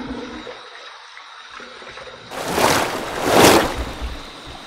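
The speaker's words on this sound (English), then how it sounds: "I'm going to take a little while to rinse this off" Water rinses thick Trader Joe's moisturizing shave cream off a freshly shaved head. After a quiet start, running water splashes up close in two strong surging bursts, loud and uninterrupted by talk.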